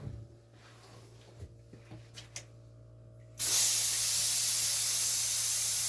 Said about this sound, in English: Okay, cycle 3 is blowing out.